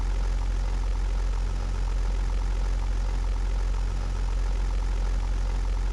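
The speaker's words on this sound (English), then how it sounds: "let's switch off the left engine, switch off the right engine" Aircraft engines in the 1998 combat flight game European Air War hum and drone steadily at idle, a continuous low rumble with even loudness throughout and no voices.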